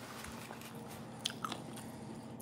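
A crunchy bite into fried fish, served with grits and biscuits: a couple of small, sharp crisp cracks close to the mic over a quiet background.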